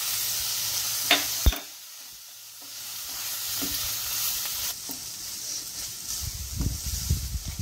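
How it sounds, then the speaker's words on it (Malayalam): Masala paste and chopped tomatoes sauté in coconut oil in a pan for a Kerala pearl spot fish dish, a steady close sizzle broken by a few sharp utensil scrapes and stirring bursts, with no talk. "തക്കാളിയും ഒന്ന് നന്നായി വഴന്ന് വരട്ടെ"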